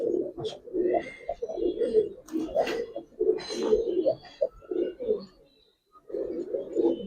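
Giribaz and coloring pigeons in a loft give soft, throaty cooing in repeated rolling bursts, close and continuous apart from a brief pause near the end.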